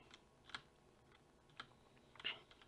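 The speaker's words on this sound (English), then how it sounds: "And then you hear me whacking on the keyboard." Sparse, faint clicks and taps come from a computer keyboard struck during a truck driving game, a few isolated keystrokes spread over a couple of seconds, with one sharper hit near the end and no talking.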